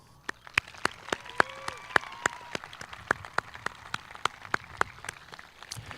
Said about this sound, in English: Let's honor Mrs. Hughes for bringing us all closer as a community with a round of applause